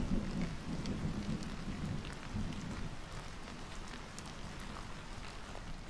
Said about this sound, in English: let's make it rain